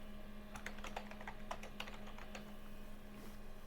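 Computer keyboard typing on a Windows 2.11 PC running Write, a rapid run of close, crisp key clicks with brief pauses over steady background hum.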